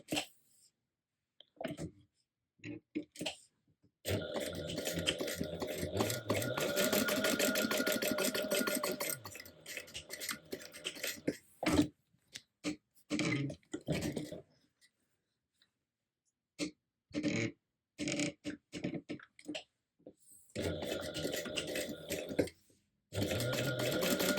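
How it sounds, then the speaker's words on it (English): A sewing machine stitches a quarter-inch seam in bursts of steady mechanical whirring that start and stop several times, separated by quiet pauses and small handling noises. "I'll go back and I'll do the 1/4 inch stitching"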